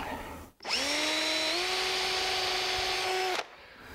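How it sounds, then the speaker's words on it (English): A power drill with a self-centering bit drives screws into a wooden post while building a pie safe, a single steady whine of about three seconds that rises slightly in pitch partway through, loud and close with no talk over it. "I'm gonna get a self-centered bit and we're gonna put some screws in"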